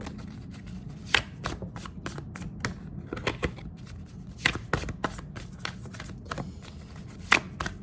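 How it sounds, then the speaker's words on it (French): A deck of tarot-style cards shuffled by hand, a close series of quick crisp riffling slaps and flicks in uneven bursts over several seconds, heard alone without speech. "Je vais bien les mélanger."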